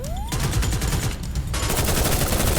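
Sustained rapid automatic gunfire in a shooting video game, a loud, close, steady stream of shots continuing without pause, with a rising whine at the start.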